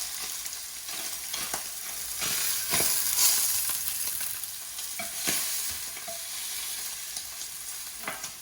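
Bacon chops crusted with cracked black pepper fry in a pan, giving a steady close sizzle and hiss with occasional crackles and pops throughout.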